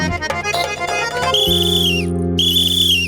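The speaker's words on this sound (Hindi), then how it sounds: "ये कमरे में से सीटी की आवाज आ रही है" A whistle blown inside a room, two sustained high shrill tones with a short gap between them, loud and close over a low steady background hum.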